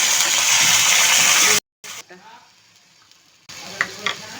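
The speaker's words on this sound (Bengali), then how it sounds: "এখন একই তেলে আমি তাজপাতা দারচিনি এলাচ দিয়ে নিচ্ছি দিয়ে দিচ্ছি পেঁয়াজ বাটা" Onion paste frying in hot oil with bay leaf, cinnamon and cardamom, a loud steady sizzle that cuts out abruptly, drops to a quiet stretch, then returns with softer sizzling and a few stirring clatters.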